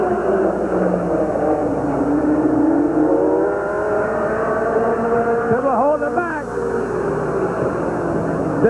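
Race cars roar around the Midvale Speedway oval at a 1985 race, a loud continuous engine drone with rising and falling pitch as cars pass, under an announcer talking.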